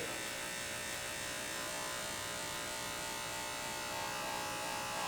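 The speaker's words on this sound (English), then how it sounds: "now I have the clipper all the way open, and I'm focusing on the middle section of the nape" Electric hair clipper with the blade fully open runs through hair at the nape, giving a steady, close buzzing hum with a soft rustle of cutting and no pauses.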